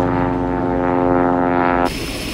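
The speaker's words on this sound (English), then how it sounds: "lead pilot Eric Snuggerud attempts a treacherous landing in his 208 Caravan, faced with 30-mile-per-hour crosswinds" A Cessna 208 Caravan landing in 30-mile-per-hour crosswinds in Alaska gives a loud, steady turboprop drone with a strong tonal whine that cuts off abruptly near the end and leaves rough, broadband engine noise.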